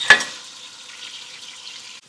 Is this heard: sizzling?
yes